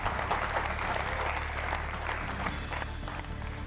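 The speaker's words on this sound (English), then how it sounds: "please, a round of applause for all the teams and all the participants" A crowd at the EU-Fiji University Quiz Challenge 2017 applauds the quiz teams and participants, a full, continuous round of clapping with some cheering mixed in that stays steady throughout.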